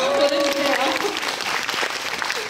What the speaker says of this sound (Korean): 정신 차리라고 박수 한번 보내주세요